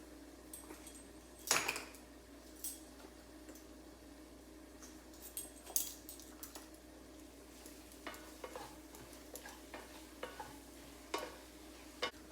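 Food sizzles quietly in a pan with a steady frying hiss, broken by occasional sharp scrapes and clinks of stirring, close and fairly soft.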